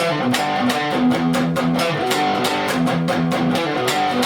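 Electric guitar plays a chugging palm-muted riff in steady downstrokes, tight percussive chords repeating in a driving rhythm.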